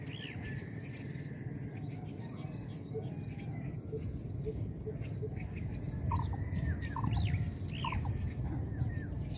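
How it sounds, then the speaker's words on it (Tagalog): Bird calls ring out in short, scattered chirps over a dense, constant chorus of crickets in an Alabang City setting, moderately distant, with a faint steady high whine throughout. "Ibig sabihin, may ibon pa dito sa city."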